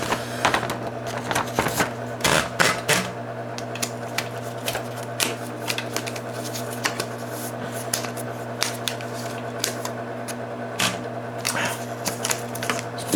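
Paper is fed into an SCM Coronet Super 12 electric typewriter: a steady motor hum runs under scattered clicks, rubs and rattles of the platen and paper handling, close and fairly loud.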